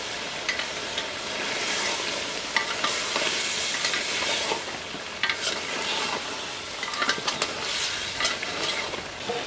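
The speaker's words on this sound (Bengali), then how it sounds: "দশ মিনিট কষানো হয়ে গেছে, হানে দেব লবঙ্গ," Mutton curry frying in a pan with cloves, cinnamon and cardamom, a steady close sizzle broken by repeated scraping stirs, no voices.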